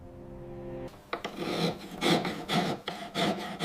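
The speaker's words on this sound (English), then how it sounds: "Rifflers and scrapers smooth the tool marks without losing definition." Riffler files rasping over carved oak relief, a run of short rough strokes with an uneven rhythm, close and fairly loud with no one talking.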